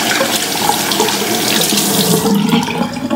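Tap water running steadily into a sink while something is rinsed under the stream, a loud, continuous close-up splashing rush with no pauses.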